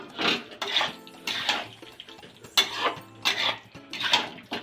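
Potatoes sautéed with yogurt in a pan for aloo dum, with repeated metallic scraping and clattering of a spoon against the pan in uneven bursts, close and fairly loud, no talk.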